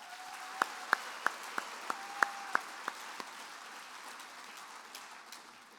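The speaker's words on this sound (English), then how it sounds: "Let's give all of our extemporaneous public speaking competitors and finalists one more round of applause." A handful of faint, scattered claps at an FFA state convention session in Kansas honoring public speaking competitors, about nine separate hand claps over a few seconds with a steady low tone beneath, then fading to quiet room noise.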